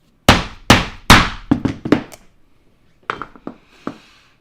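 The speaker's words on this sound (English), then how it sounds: "I'm just going to hammer it." Metal armor is hammered with three heavy, ringing strikes, then a quicker run of lighter blows. A pause follows, and then a few softer taps and clinks, all close and loud in a quiet room.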